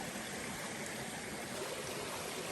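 Appalachian creek water flowing steadily near Damascus, Virginia, a soft continuous rush and babble with no voices, fairly quiet and close.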